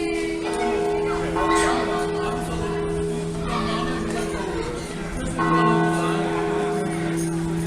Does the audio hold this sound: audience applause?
no